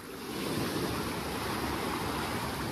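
Small ocean waves wash onto a beach at a Mazatlán hotel, a steady broad rushing hiss, with no distinct breaks and no voices.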